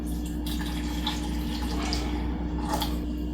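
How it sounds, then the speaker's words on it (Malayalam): Water trickles and drips into a saucepan with soft splashing, over a steady low hum. "ഇനി ഇതിലേക്ക് നമുക്ക് വെള്ളം ഒഴിച്ചു കൊടുക്കാം"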